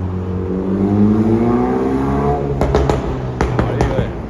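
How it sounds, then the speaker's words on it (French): A loud Alpine sports car drives past with a rising engine roar that swells and then fades, followed by several sharp pops and crackles near the end. "c'est l'Alpine qui fait autant de bruit"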